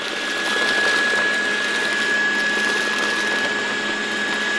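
A Dreame Bot D9 Max robot vacuum runs on strong suction over a floor scattered with rice, giving a steady, loud whooshing roar with a constant thin whine that stays even throughout.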